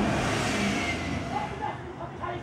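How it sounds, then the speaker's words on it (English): Cars pulling away and driving off outside, a steady broadband engine and road rumble that stays fairly even and gradually eases, heard from indoors in Los Angeles. "Two cars drive off and they're all still there."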